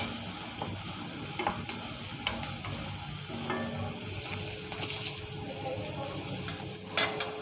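Chopped small onions, green chili and curry leaves are stirred in a frying pan, with a steady soft sizzle and intermittent spatula scrapes close by, plus brief background clinks and no talking.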